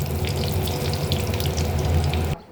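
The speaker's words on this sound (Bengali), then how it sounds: "কড়াইটা ছোট, তাই আমি দুটো দুটো করে ভেজে নিচ্ছি।" Sesbania flower fritters fry two at a time in very hot oil in a small wok, giving a dense, steady crackling sizzle close up that cuts off abruptly at the end.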